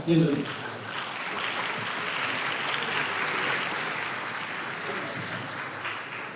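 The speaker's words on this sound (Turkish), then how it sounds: "Alkışlarla uğurluyoruz" An audience applauds a high school stage performance at a novel-characters festival, opening with a brief voice and then a sustained wash of clapping from a large crowd that stays steady throughout, with faint speech beneath.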